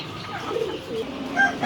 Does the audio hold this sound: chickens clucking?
yes